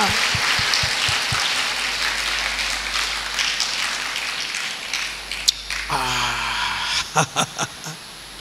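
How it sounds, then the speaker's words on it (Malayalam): Audience at a Malayalam sisters' prayer retreat at Carmel Mount, Changanassery, claps in thanksgiving, a dense wash of many hands mixed with speech and music, ending in a few loud rhythmic group claps. "ഇന്ന് കൈയടിച്ച് നന്ദി പറയാം"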